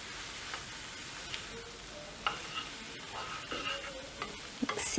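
Brains fry in a pan, giving a steady sizzle with scattered scraping clicks from stirring that build toward the end, heard from close by.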